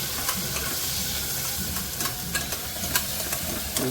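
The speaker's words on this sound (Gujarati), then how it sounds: "જોઈ લો સોટે કરવાનું સ્ટાર્ટ થઈ ગયું છે" Tomatoes for dal khichdi sauté in a hot pan, giving a dense, even sizzle and hiss with light stirring taps scattered through it.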